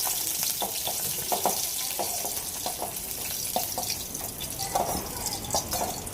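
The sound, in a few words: green chilies roasting in a pan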